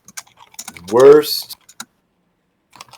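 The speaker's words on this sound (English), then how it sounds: "Keyboard offender. Consistently typing." Computer keyboard typing picked up on an open mic: scattered, sharp key clicks around a brief spoken word, close and fairly loud.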